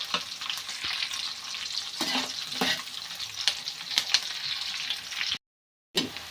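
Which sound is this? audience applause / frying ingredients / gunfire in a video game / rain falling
frying ingredients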